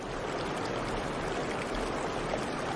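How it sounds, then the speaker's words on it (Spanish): Flowing water of the Alto Biobío river, a steady broadband rush heard alone at an even, continuous level with no voices. "Es este el río que están escuchando."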